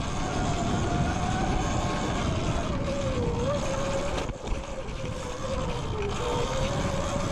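Eride Pro SS 2.0 72-volt electric dirt bike climbing a steep single-track slope, a steady motor whine that rises and falls in pitch over continuous wind and tire noise, fairly faint throughout.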